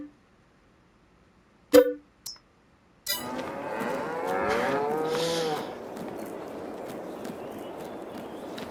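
Cattle moo in a farming simulation game, with a short distant call early on, then a long, loud, drawn-out moo that fades into steady background ambience.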